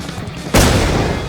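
A loud explosion bursts in the survival shooter Infestation, one sudden heavy boom that holds as a dense roar right up close.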